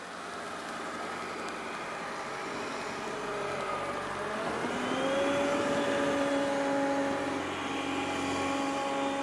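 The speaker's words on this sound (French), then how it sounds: "lorsque l'aspirateur détecte un tapis, il accroît bien sa puissance de succion" A Yeedi Vac 2 Pro robot vacuum runs at home with a steady whirring hum. Midway, as it moves onto carpet, its suction boosts and the motor pitch rises and grows louder before holding steady.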